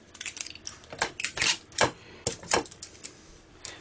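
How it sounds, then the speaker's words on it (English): Adhesive tape peeled off the cells of an HP CM03XL 11.4 V lithium laptop battery pack: close, irregular crackling rips and ticks in short bursts, with no talk. "Pull off some more tape there."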